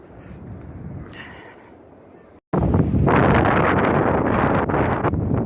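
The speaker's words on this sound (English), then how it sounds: "it is windy as all get out here though" Strong wind roars and buffets the microphone, quieter at first, then abruptly surging into a loud, sustained rushing gust during a thunderstorm.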